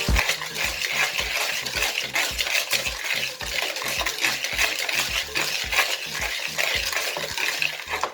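Baking powder and nutmeg whisked together in a bowl for Nigerian chin-chin dough, a brisk, steady scraping stir with rapid repeated strokes against the bowl, close and continuous with no talking.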